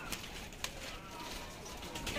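High flyer pigeons in a loft, soft cooing and fluttering under a constant background hiss, with a couple of brief sharp clicks, faint and close, with no clear speech.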